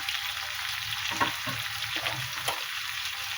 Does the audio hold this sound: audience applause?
no